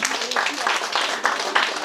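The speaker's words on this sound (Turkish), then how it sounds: "alkış alalım mı Begüm Sena'ya?" An audience at a children's Quran course year-end show applauds a young girl with brief, dense, fairly close clapping that fills the whole moment, with no talk over it.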